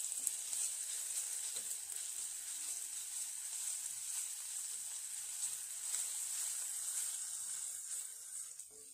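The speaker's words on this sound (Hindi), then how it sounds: "ऑयल गरम हो चुका है, अब हम सबसे पहले लहसुन फ्राई कर लेंगे।" Garlic fries in hot oil for a noodle dish, giving a steady, even sizzle with a bright hiss that holds for the whole stretch, close and moderately loud, with no talking over it.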